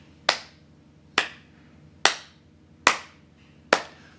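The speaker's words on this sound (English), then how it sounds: "Slow clap for Game Freak." Five slow, loud hand claps ring out alone at even intervals of almost a second, each sharp and crisp with a short decay.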